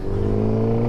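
Motorcycle engine revving hard in first gear for a wheelie, a close, loud steady drone with strong low harmonics that holds for about a second.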